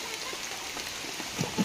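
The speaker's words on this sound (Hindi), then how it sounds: "बहुत जोर से वर्षा है" Heavy rain falls steadily as a dense, continuous hiss across the whole stretch, with a couple of slightly louder drop impacts near the end and no talking.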